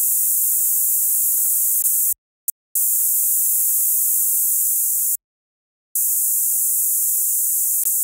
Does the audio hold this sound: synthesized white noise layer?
yes